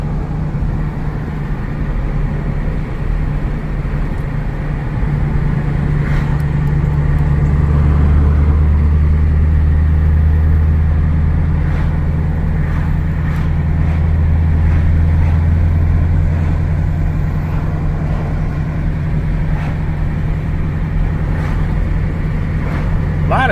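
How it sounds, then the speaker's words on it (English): Southbound traffic on Route 340, a major roadway, passes as a loud, steady low rumble with swelling vehicle drones, while people talk intermittently over it. "A lot of southbound traffic."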